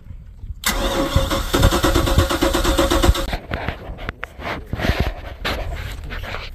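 A Mercruiser 5.7 V8 Alpha One boat engine cranks with a fast rhythmic starter whir, then catches and runs roughly, loud and close, with a dog barking nearby.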